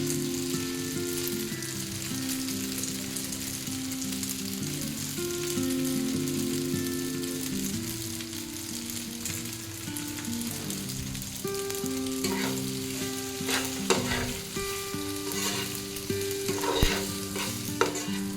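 Macaroni frying in a pan while being stirred with pasta masala, a loud continuous sizzle broken by scraping and clinking stirs that grow busier toward the end.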